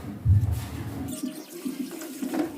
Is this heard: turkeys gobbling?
no